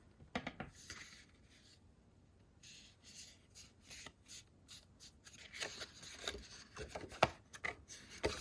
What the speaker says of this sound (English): On our next score line, we're going to fold over.